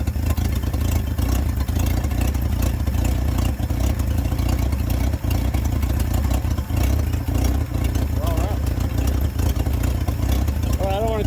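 A 1964 Chevrolet Bel Air engine idles with a steady low rumble and clatter, loud and close, continuing without a break.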